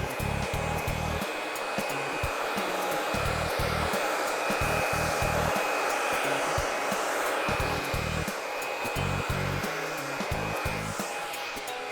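A blow dryer drying hair roars steadily and close for several seconds, its airflow hiss broken by rapid low thumps and flutters as it keeps moving through the hair.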